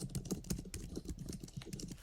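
Quick, irregular clicks of fingers typing on a computer keyboard, close and clear, a steady run of keystrokes with no talk.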